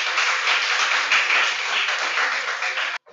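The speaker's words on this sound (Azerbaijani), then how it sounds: "Alqışlarınızla." An audience applauds steadily at a school event in Sumgayit, dense clapping from many hands that carries on evenly, then stops abruptly near the end.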